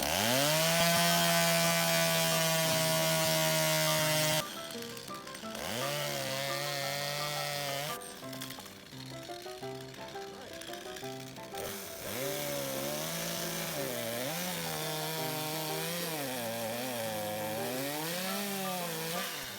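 A saw cuts through a tree branch during pruning, with a sustained droning engine-like tone that holds steady and then wavers and dips in pitch as the blade works, loud and continuous with no voices.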